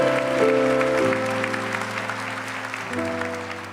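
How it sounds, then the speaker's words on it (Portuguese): A church congregation applauds during a Catholic service about Saint Michael the Archangel, a continuous spread of clapping over sustained organ or keyboard chords that change pitch midway. "Então aplauda esse nome com entusiasmo"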